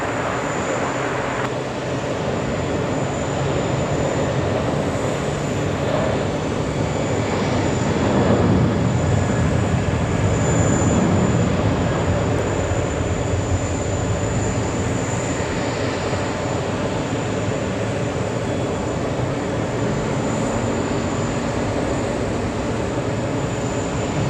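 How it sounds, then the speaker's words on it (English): An Aer Lingus airliner moves at JFK airport on a hot day, its engines giving a steady broad roar that swells slightly midway and holds close and loud throughout without speech. "We have Aer Lingus on the move."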